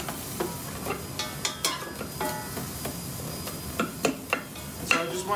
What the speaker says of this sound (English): I am now dry sauteing my onions and garlic.